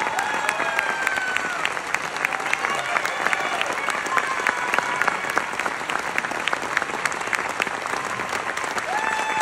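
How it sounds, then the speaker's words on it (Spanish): Theatre audience applauding the director at the final performance of a touring show, a full, sustained roar of many hands clapping with some crowd noise, while a voice speaks over it. "un fuerte aplauso para él, por favor"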